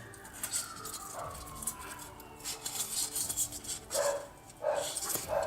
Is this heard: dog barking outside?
yes